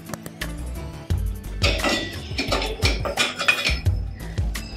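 A cake tin filled with wheat cake batter and dry fruits set into a preheated pressure cooker, heard as close metallic clanks, scrapes and clinks of metal against metal in an uneven burst.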